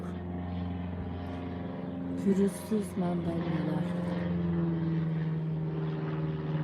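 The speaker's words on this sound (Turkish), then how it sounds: "Gökyüzünde de uçak eğitim sahaları var. Pilot eğitimleri yapılıyor. Onun için uçak sesleri de çok geliyor." Training airplanes flying overhead above a tangerine orchard, a continuous distant engine drone that hums steadily throughout, with someone speaking briefly over it.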